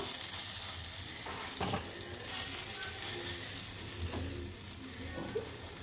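Bottle gourd pitha toasts on a hot pan with ghee, a loud, close, continuous sizzle with faint scrapes and shifts in intensity as the pieces cook.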